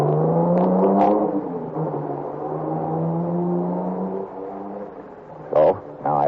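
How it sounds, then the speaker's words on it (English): A car pulls away and speeds off through a village in a radio-drama scene: a loud engine whine rises and holds, then fades into the distance, followed by a couple of brief sharp bursts at the end. "They all pile into the car and take off through the village,"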